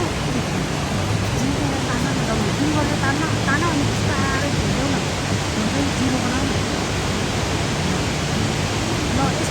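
A steady, loud roar of a waterfall's rushing water fills the scene throughout at Aina Pokhara in Nepal, with faint voices talking beneath it.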